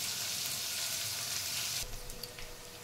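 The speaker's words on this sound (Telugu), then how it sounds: "ఇది మంచిగా ఫ్రై అవ్వాలి." Masala rice frying in a pan gives a loud, close, continuous sizzle that suddenly softens partway through into a quieter crackle with a few light clinks.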